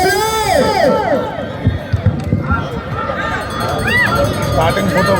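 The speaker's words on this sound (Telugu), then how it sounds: "కేరింతలు" Large outdoor crowd shouting and cheering steadily at a bullock cart pulling contest in Vavilala, with shrill whistles and loud overlapping voices throughout.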